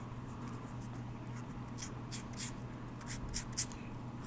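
An ultrafine sanding pad rubbed over the edges of a Ring Maker blank, producing soft, close scratchy strokes in a quiet, irregular rhythm.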